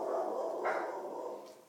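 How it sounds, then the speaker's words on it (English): Dogs bark in a house, a short muffled yap or two heard at a distance, faint and brief. "You can hear the chupacabra and my other baby barking."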